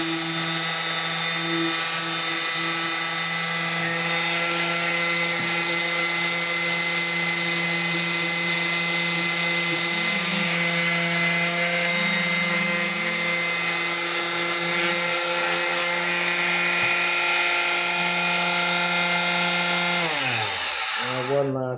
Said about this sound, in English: Let's keep sanding it down.